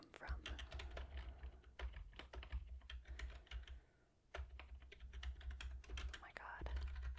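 Rapid, steady keyboard typing fills the whole stretch, close and soft, with faint whispering under it and a short pause near the middle.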